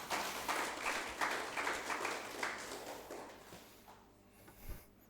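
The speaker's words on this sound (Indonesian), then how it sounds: "Kita kasih tepuk tangan dulu buat Tuhan Yesus." A church congregation claps together at an Easter Sunday service, a dense, steady burst of applause filling the hall for a few seconds before fading out near the end.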